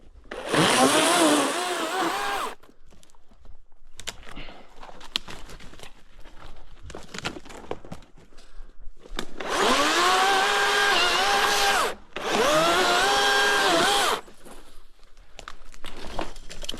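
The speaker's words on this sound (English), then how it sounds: "Trying to cut down as far as I can without running the chainsaw into the ground." Chainsaw cutting a fence post low near the ground while mending fence in the Black Hills of South Dakota, loud close bursts of high revving at full throttle separated by quieter idling and crinkly pauses.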